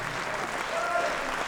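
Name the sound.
audience applause for two poets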